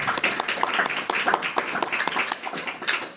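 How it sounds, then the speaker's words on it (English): Applause from a gathering honoring teachers at a Bothell spiritual community event, with dense, steady hand clapping from many people sustained throughout. "a big round of applause to your glorification and to all the teachers that you glorified"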